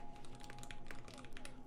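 Rapid typing on an Ikki68 Aurora prototype mechanical keyboard with a pink spacebar, quiet and close, a steady stream of clacky keystrokes with no pauses.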